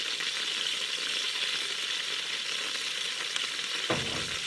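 Onion powder, smoked paprika and garlic powder fry in a pan with canned potatoes, giving a steady close sizzle throughout, with a short scrape or stir near the end.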